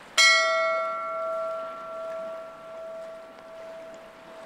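A single bell is struck once, sharp and clear, then rings on with a long sustained hum that slowly fades, heard alone in a quiet setting.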